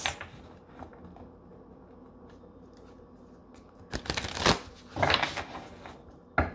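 Tarot cards being shuffled by hand, a quiet papery rustle at first, then several louder riffling bursts in quick succession near the end.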